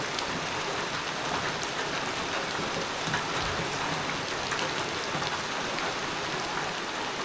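Heavy rain pours on a rural Lao village of a few houses deep in the forest, a dense, steady hiss of drops hitting surfaces that holds evenly for the whole stretch with no voices.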